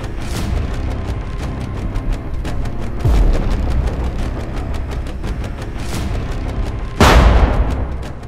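A Ukrainian Leopard tank's cannon fires on Russian tanks, two heavy booming shots a few seconds apart over a constant loud rumble, with sharp crackling transients between them.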